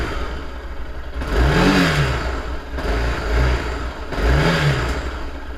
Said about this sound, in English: It's a nice note when you open it up, but I just find it a little bit quiet.